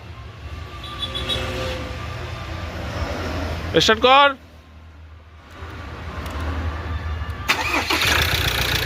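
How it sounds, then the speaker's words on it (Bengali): A Ford Endeavour diesel engine cranks and fires up in one try, settling into a steady idle, with people talking nearby. "দেখছেন এক সেলফে গাড়ি স্টার্ট, কোনো প্রবলেম নেই"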